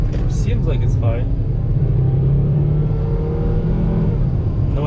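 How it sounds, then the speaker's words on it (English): Volvo S60R on a test drive after an ABS pump motor replacement: a steady low engine and road hum from inside the car, with a voice briefly speaking near the start. "So I'm driving the car now."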